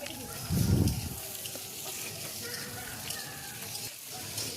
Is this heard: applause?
no